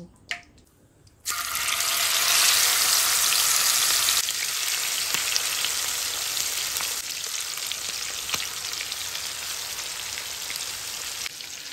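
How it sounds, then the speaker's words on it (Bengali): Marinated shrimp dropped into hot oil erupt into a loud, dense sizzle that starts abruptly and keeps crackling steadily, with scattered pops as it settles slightly. "এবার মেখে রাখা চিংড়ি মাছগুলা ওই তেলের ভিতর ছেড়ে দেব"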